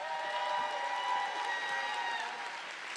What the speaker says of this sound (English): Clap your hands for the chef.